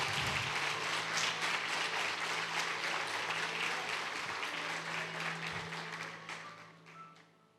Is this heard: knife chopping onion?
no